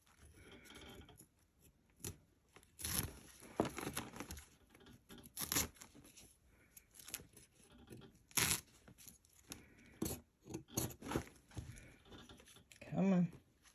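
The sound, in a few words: peeling tape off embroidery hoop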